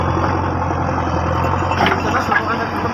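Tractor engine idling with a steady low rumble and constant drone, close and loud, at a village pipeline dig with a JCB nearby.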